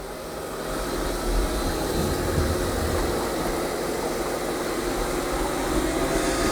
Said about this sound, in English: I'm going to turn the vacuum down a little bit.